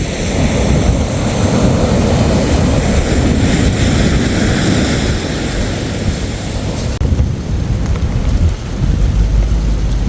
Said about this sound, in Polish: zaczęło padać